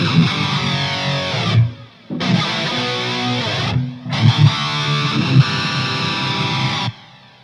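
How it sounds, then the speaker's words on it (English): Distorted electric guitar through a Line 6 Helix with a washy phaser and reverb on a brutal metal preset, three loud sustained chord bursts separated by short gaps, each swirling as it rings out alone. "And then a washy phaser."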